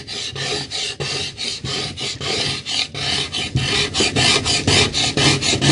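A tool scrapes wood in a fast, rhythmic rasp to shape a longbow, each stroke close and loud in an even repeating pattern with no voices.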